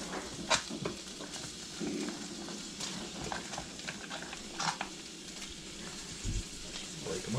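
Onions fry in a pan with a steady crackling sizzle, dotted with occasional clicks and light scrapes of stirring, heard fairly quietly and close up.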